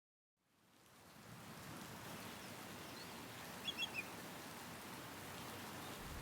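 Steady rain fades in from silence and patters evenly, with a few brief bird chirps partway through.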